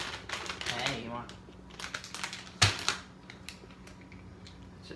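Close crinkly plastic snack packaging is pulled and ripped open, giving a cluster of sharp crackles and a louder tearing snap midway, mixed with nearby talking.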